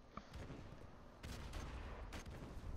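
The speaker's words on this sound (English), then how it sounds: "Who the hell's shooting me, man?" Gunfire in Call of Duty: Modern Warfare Remastered multiplayer, with bursts of distant shots and rattling fire layered over dense, busy game ambience, fairly faint overall.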